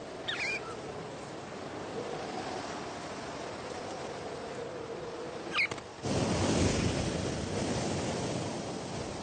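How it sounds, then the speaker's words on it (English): Steady roar of wind and surf, broadband and rushing, swelling louder partway through as gusts and waves build; no voices. "Down at sea level, the cold fronts bring gale-force winds, great for surfers"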